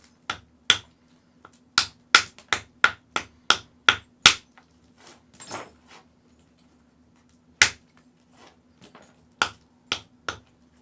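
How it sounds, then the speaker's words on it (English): A soft hammer knocks small flakes off a flint core: a run of sharp, close, isolated clicking strikes, several in quick succession, then sparser ones with brief scraping between them. "we can just use a little soft hammer and strike out a few little flakes"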